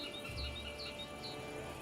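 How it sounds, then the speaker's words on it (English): Faint cicada chirps pulse in the background outdoors, a few short high buzzy calls at a slow rhythm over a quiet steady hiss. "This is the weirdest cicada noise I've ever heard in my life."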